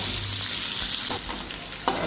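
Chopped onion fries with curry leaves in hot oil and is stirred through the pan for a spiced okra dish, giving a loud, close, continuous sizzle with a couple of sharper scrapes of the spoon.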